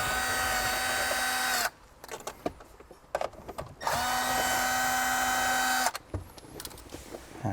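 A power tool whines in two steady bursts while removing 10mm bolts from the dashboard of a 2013–2015 Lexus LX, with clanks and handling noises between the runs.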